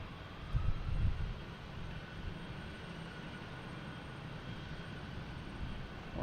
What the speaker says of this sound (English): And we have JetBlue coming in from Sarasota, A321.